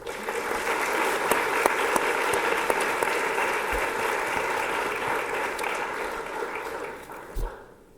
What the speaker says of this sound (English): So students, would you please give all of them a big round of applause?